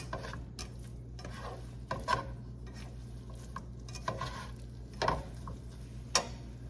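A spoon stirs canned tomato sauce into low-carb shepherd's pie filling in a pan, with scraping and clinking against the pot at intervals of about a second over a steady low hum.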